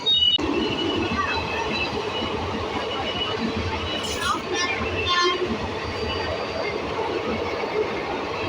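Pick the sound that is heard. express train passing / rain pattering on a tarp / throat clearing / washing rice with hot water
express train passing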